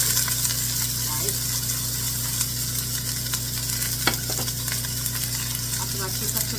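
Celery and onion sautéing in avocado oil, a steady close sizzle with occasional stirring, heard under a person talking.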